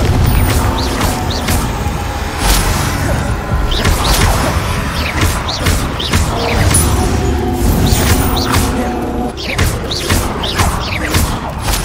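Confringo fire spells in Hogwarts Legacy burst repeatedly with loud booms, whooshes and crashing thuds, blasts recurring throughout amid busy combat noise.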